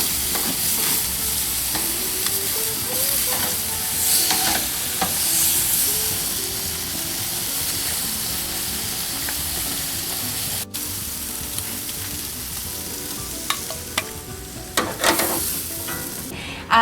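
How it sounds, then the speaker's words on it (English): Marinated beef galbi frying in a pan over medium-high heat, a steady close sizzle and hiss with scraping and stirring sounds, and occasional louder crackles toward the end. "Medium high heat, cook the beef 10 to 15 minutes."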